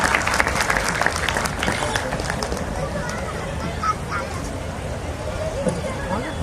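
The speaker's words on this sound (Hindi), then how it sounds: "जोरदार तालियों से स्वागत करें लक्ष्मण यादव जी" Applause from an audience at a Buddha Jayanti celebration in Bhilai, Chhattisgarh, welcoming Professor Dr. Laxman Yadav; dense, steady clapping filling the whole stretch with a few voices and calls mixed in.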